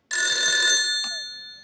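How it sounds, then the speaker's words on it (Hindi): A telephone rings on an outgoing call during a Hindi comedy show, a single loud electronic bell burst with a shorter second pulse fading after it, heard alone. "एक सेकंड, मैं अपने दोस्त को फोन लगाता हूँ।"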